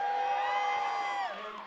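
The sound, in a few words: loud crowd cheering at event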